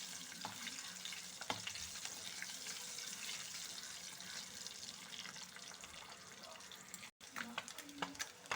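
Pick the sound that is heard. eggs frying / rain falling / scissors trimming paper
eggs frying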